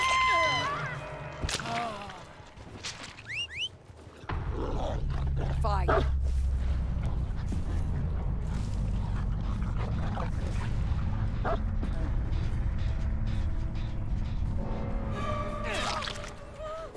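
A dog in Dead by Daylight gives short yips and whimpers over a steady rumbling game background, with someone talking at times.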